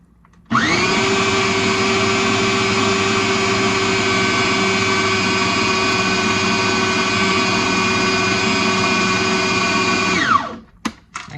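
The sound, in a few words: electric mixer mixing food ingredients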